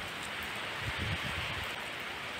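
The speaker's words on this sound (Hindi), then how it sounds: "बारिश अब भी पड़ रही है" Rain pours steadily on a flooded residential lane in India, a dense, even hiss of drops on wet surfaces, close and continuous with no voices.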